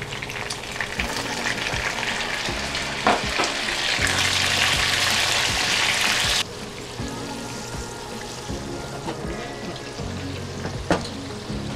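Chili and garlic frying in a pan over medium-low heat, a steady close sizzle with light stirring and scraping clatter throughout, a brighter, hissier burst in the middle before settling back to a softer crackle.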